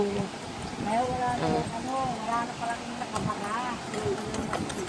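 Hooves clip-clop steadily at a walking pace while people talk over them nearby.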